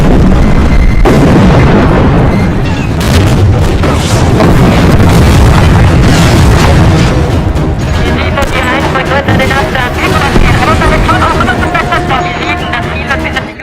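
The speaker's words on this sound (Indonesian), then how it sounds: "Setelah mendapat koordinat musuh, artileri Uni Soviet mulai menyerang tentara Jerman." Soviet artillery firing on German soldiers in a war film, a dense, continuous barrage of loud booms and blasts with rumbling explosions throughout, layered with battlefield noise.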